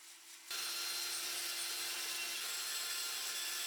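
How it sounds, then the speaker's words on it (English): An orbital sander starts up abruptly and runs with a steady, high, gritty whir as it grinds against log wood, loud and constant. "maneuvering this orbital sander to knock down unwanted corners or rough spots"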